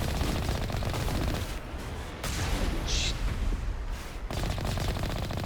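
Geth turrets in the Mass Effect video game fire rapid bursts of gunfire, loud and sustained with short pauses between volleys.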